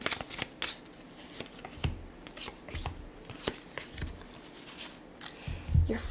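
Tarot cards being shuffled and drawn, with soft, close riffling and flicking that come in repeated irregular bursts, and a few sharper slaps of cards landing. There is no talking.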